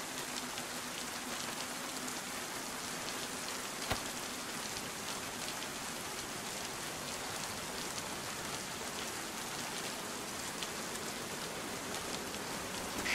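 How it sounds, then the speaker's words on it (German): Steady rain falling in the video game DayZ, a dense, even hiss of drops on surfaces that stays constant throughout, with one brief faint knock partway through and no voices. "Auch wenn es im Regen ist"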